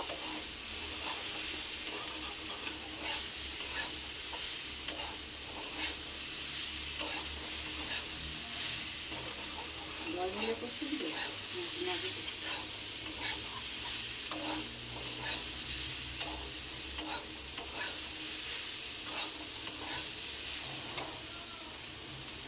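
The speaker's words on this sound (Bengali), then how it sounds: "হলুদটা দিয়ে একটু ভালো করে ভেজে নেব।" Cauliflower frying with turmeric in a pan for a Bengali cauliflower, potato and poppy seed dish, a steady broad sizzle with scattered light clicks of stirring throughout, close and fairly quiet.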